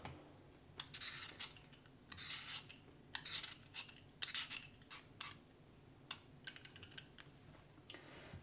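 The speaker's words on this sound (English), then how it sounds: "Who would have thought you'd be spending your time watching me peeling potatoes, eh?" Peeler rasping over raw potatoes in a home kitchen, a series of short scraping strokes in irregular bursts, close and fairly quiet with no talking.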